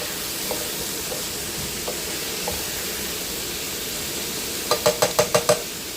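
Stuffed bell pepper filling stirred in a pan with a spatula over a faint sizzle, a few soft scrapes early, then a quick series of about six sharp knocks close by near the end.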